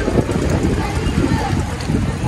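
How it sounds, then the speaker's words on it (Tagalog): Loud, steady roar of wind and rain battering close by, a dense unbroken rush with no pauses. "Ang lakas ng hangin ng ulan."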